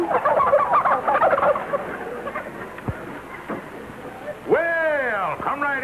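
A flock of turkeys gobbles in quick warbling bursts, staged as a radio sound effect in an old comedy broadcast, with voices talking around the calls.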